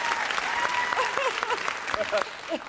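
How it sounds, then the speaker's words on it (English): Game show studio audience applause, brisk clapping throughout while a host's voice and cheerful exclamations cut in over it. "Give a very nice round of applause for them."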